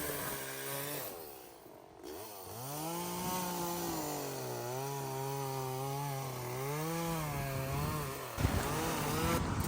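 A chainsaw cuts a tree at the root in a yard at a vacation home in Jamaica, its engine revving and bogging steadily through the wood, close and continuous for several seconds with no voices.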